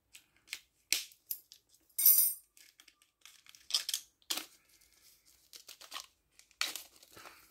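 Scissors cut open the plastic packaging around a comic book, giving scattered crisp snips, crinkles and tearing rustles, each burst brief and close, separated by silence.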